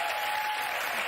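Studio audience applause on a daytime talk show, a dense, loud, continuous clapping wash with no speech over it.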